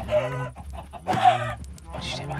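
Chickens in the Minecraft video game cluck in a quick series of close, fairly loud calls, with a faint voice briefly underneath.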